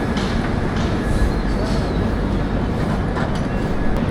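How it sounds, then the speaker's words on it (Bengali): Padatik Express train at platform 1 of Kishanganj station, a loud continuous rumble of rolling coaches with faint rattling, heard from on board. "কিষানগঞ্জের 1 নম্বর প্ল্যাটফর্মে এসছে আমাদের পদাতিক এক্সপ্রেস"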